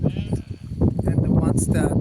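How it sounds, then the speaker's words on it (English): Sheep and lambs bleat on a traditional sheep farm holding around 700 animals, several overlapping calls rising loud and close under continuous talk. "So he's got like around 700 sheep and lambs"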